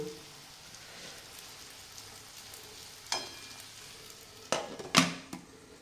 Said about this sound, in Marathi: तर अशा प्रकारे दोडका आपला आता शिजत आहे